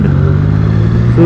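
A Suzuki GSX 1000 motorcycle rides along an expressway, its engine a loud, steady low drone close by with a brief rise in pitch at the very end.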